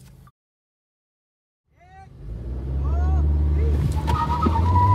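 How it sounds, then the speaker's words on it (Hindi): Mahindra XUV700 and Skoda Kushaq at a drag race, engines revving up from silence into a loud sustained roar, with voices and crowd chatter over the top. "दोनों ओनर्स अब अपनी गाड़ियां चलाएंगे"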